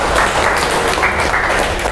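Classroom applause for a student group: a short burst of many hands clapping, dense and fairly loud, steady for the whole moment with no talk over it.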